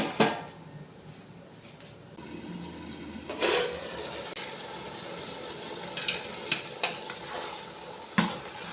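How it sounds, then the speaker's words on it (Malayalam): Rice is stirred in a pot of boiling water with lemon juice, giving close scraping swirls and a few sharp spoon clinks against the pot over a steady bubbling hiss, with no talking. "ഇതൊന്ന് ഇളക്കി കൊടുക്കാം"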